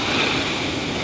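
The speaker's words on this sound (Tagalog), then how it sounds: "Sobrang lakas po talaga ng hangin" Very strong typhoon wind roaring during a Signal No. 5 storm, a loud continuous broadband rush with no pauses, close and overwhelming.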